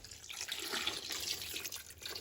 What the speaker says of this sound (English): We'll put water in this.